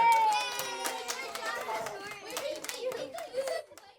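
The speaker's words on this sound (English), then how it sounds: "Should we clap?" Children at a Kindness Club gathering clap and cheer, scattered claps mixed with excited young voices and chatter, close and lively, the cheering rising and falling throughout.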